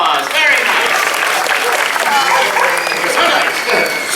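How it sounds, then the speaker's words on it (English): A crowd at a Walt Disney World Animal Kingdom bird show applauds, dense sustained clapping filling the whole stretch, close and loud with a faint voice or two mixed in. "Give yourselves a round of applause"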